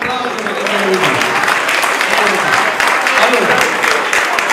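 A crowd applauds steadily for several seconds at a rescue and life-saving exhibition in La Spezia, dense clapping close and loud throughout.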